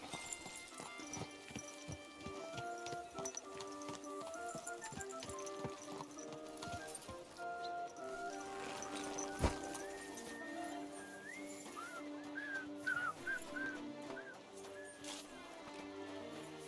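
Horse hooves clip-clopping steadily in Kingdom Come Deliverance 2, a regular trot under a background music bed, with a brief whinny-like accent midway.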